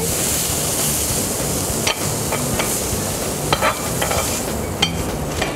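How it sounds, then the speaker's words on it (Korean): Continuous sizzling of julienned carrots stir-frying in a lightly oiled pan, with occasional scraping and clinks of a utensil stirring, close and fairly loud. "그럼 팬에 한번 볶아봐야겠죠?"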